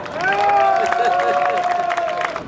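Audience applause at an evening cultural-heritage event: scattered claps ring out for a couple of seconds beneath a sustained tonal voice or sound that holds above the crowd.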